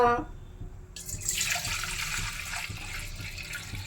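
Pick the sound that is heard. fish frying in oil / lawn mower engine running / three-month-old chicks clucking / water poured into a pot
water poured into a pot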